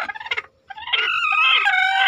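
Farm hens, brooding birds among the flock, give a short run of throaty clucks, a brief gap, then a longer drawn-out squawking call, close and fairly loud.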